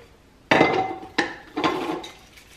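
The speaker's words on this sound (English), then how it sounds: "So I'm going to throw my yellow onions in here." Yellow onions dropped one after another into a kitchen canister, giving three sharp knocking thuds with short rattling tails, close and fairly loud, with no talking.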